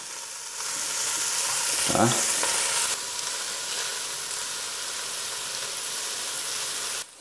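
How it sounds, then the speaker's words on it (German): Vegetables sizzle and fry in a little oil in a pot for a braised beef roast, a loud, steady hiss with a brief stirring scrape early on; a voice says a single short word. "das ich eben noch anbraten möchte."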